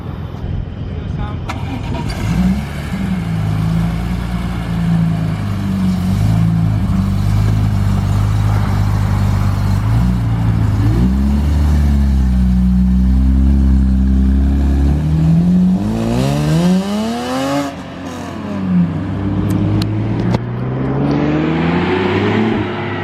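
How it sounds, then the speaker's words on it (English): A BMW E46 M3 engine revs and idles nearby, rising and falling in pitch with several sharp throttle blips, while people talk over it. "So guys, that is Spencer's E46 M3"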